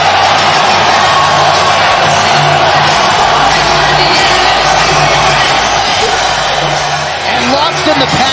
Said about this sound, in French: Il s'est fait applaudir comme là, c'est ça.